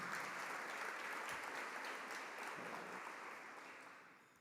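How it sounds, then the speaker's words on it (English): Audience applause at a youth club awards event, sustained clapping from a crowd that holds steady and then slowly fades toward the end, with no voices over it. "Give them a round of applause."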